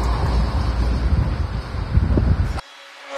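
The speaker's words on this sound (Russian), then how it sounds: "Ветер играет с крышей, как с игрушкой." Strong wind gusting around the roof of an apartment building, a loud, blustery roar buffeting the microphone that cuts off abruptly near the end.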